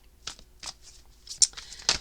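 Tarot cards being shuffled, several quick papery riffles and soft slaps in an uneven rhythm, close and fairly quiet.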